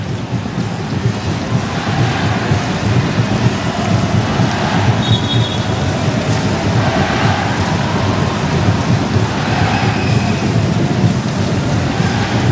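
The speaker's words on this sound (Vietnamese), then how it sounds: "Trên sân lúc này đang có mưa." Steady rain pours over a football pitch during a Vietnam versus Thailand match, a dense, even hiss with low rumbling underneath that holds at a constant level throughout, with no voices.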